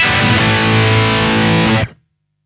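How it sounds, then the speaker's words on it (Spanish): Electric guitar through the main distorted channel with an Ecstasy pedal and no boost, a loud sustained distorted chord ringing for almost two seconds before cutting off sharply to silence. "Luego vas a tener el canal distorsionado principal, que es con el Ecstasy y sin el Boost."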